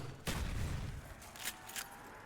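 An upgraded Pack-a-Punch weapon firing in Black Ops 1, with three quick shots spread over a couple of seconds, fairly faint against a steady game background.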